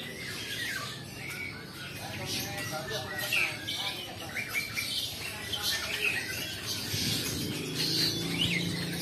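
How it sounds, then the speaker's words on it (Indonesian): Caged birds at a quiet Sunday animal market in Muntilan, Magelang, starlings among them, squawk and chirp continuously, with harsh calls and bright tweets layered over a busy market murmur and some nearby talk. "Ini koleksi yang didagangkan burung-burung."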